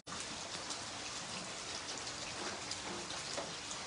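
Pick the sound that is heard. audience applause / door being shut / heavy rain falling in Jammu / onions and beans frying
heavy rain falling in Jammu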